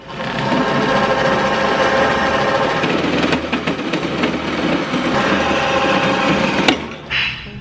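A muffler tube from a Honda S2000 exhaust is cut just outside the end-cap weld, giving a loud, steady, close buzzing grind that runs almost unbroken and cuts off near the end.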